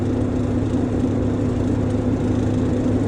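A truck engine running steadily during a commercial driver's pre-trip inspection, a continuous low rumble with a steady hum, close and unbroken for the whole stretch with no talk.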